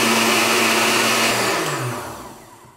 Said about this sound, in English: you want all those fibrous ingredients to blend thoroughly